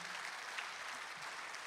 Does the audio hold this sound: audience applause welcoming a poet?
yes